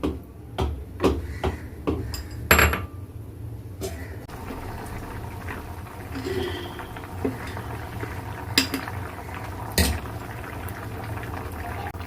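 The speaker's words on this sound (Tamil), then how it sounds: "இப்போது நல்லா கொதிச்சு வருது." A pot of sambar made without lentils boiling on the stove, with steady bubbling and simmering under a few sharp clinks of a utensil against the pot, close and moderately loud.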